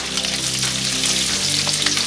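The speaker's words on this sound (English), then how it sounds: "The next items I'm going to add are the pieces that take longer to cook, like the peppers, the potatoes, and the celery." Pieces of peppers, potatoes and celery sizzling in a frying pan for a lamb stew: steady, close, crackling frying hiss throughout, with no talking.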